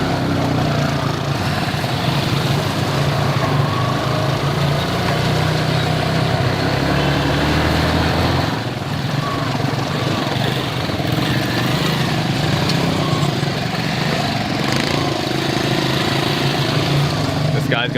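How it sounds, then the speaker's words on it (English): Steady motorbike engine drone with three riders aboard, bumping up over curbs through a flooded, sewage-strewn, wrecked neighbourhood; the rumble runs continuously and close throughout, with a brief dip midway, and no one talks. "This guy's got serious skills on a motorbike, 3 of us, and he's driving up curbs."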